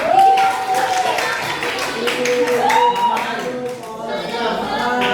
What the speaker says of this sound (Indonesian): Oke, tepuk tangan buat teman.